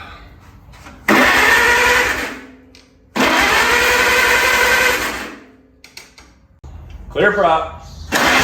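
An antique 1945 Farmall tractor engine cranks over in two long bursts of about two and three seconds each, loud and close, without catching; someone speaks briefly between them and a rougher mechanical burst follows near the end.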